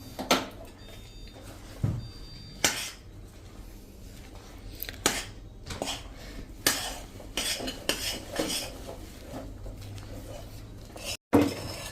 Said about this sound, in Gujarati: આ રીતે આપણે ગેસ ઉપર જ બંધ કરીને જ હલાવીએ છીએ